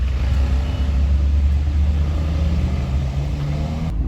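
Porsche 911 SC car engine at a Sunday gathering of cars on a town square, a steady deep idle rumble held close and fairly loud throughout, with a slight rise in pitch near the end.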